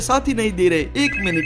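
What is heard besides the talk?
telephone ringing, grandfather calling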